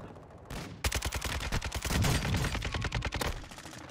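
Rapid bursts of sniper gunfire in a first-person shooter game, loud sharp cracks in a fast irregular rhythm with no voices over them.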